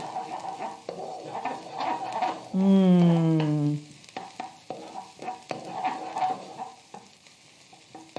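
Garlic sizzles in hot oil in a pan with a steady, close crackle that runs throughout, briefly joined midway by a short tonal vocal sound.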